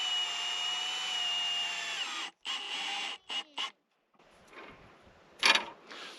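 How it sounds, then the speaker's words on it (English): A power drill driving long screws into a board during a garage water line install: a loud, high whine runs for about two seconds, then short bursts stop and start, followed by softer handling noises and a brief final clatter. "And then I have some really long screws to screw in here."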